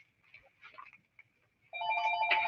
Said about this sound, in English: Okay, the phone rings.